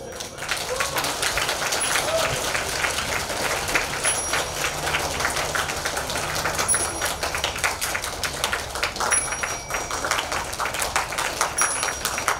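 A crowd at a Buddhist Guanyin festival in a Maryland temple claps steadily, a continuous crackle of many hands over a long stretch, with voices mixed in.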